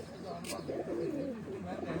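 Pigeons cooing nearby in a soft, continuous rolling murmur, with a brief sharp click partway through and a voice speaking over it.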